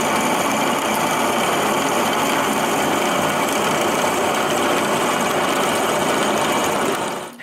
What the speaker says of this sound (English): Now I need to drill a hole in the center of each shaft